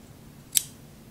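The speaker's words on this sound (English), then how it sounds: "cut my yarn here so I can continue to unravel easily" A single crisp snip of scissors cutting through crochet yarn, short and close, standing out against a quiet low hum.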